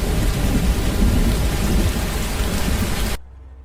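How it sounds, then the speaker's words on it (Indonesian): Heavy rain pours down in a dense, loud wash with deep rumbling thunder beneath it, cutting off abruptly into near silence at the end. "gue tuh kejebak hujan dan gak bisa"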